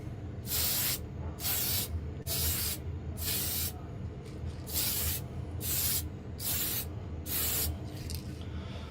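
An aerosol can sprays paint onto a slot car body in about nine short, even bursts of loud, close hiss, each lasting roughly half a second and separated by brief pauses, with no voices.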